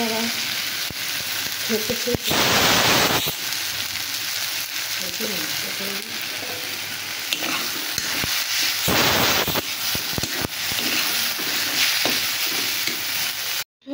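Maggi noodles cook in a pan with a steady, close frying sizzle throughout, broken by a couple of louder bursts of hissing and stirring scrapes, while a voice speaks briefly in the background.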